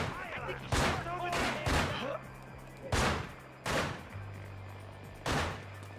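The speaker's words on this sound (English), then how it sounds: "I think he's shooting over" Video game gunfire in a manhunt match: five or six heavy, evenly spaced booming shots about a second apart, loud and close, with a low engine-like hum running between them.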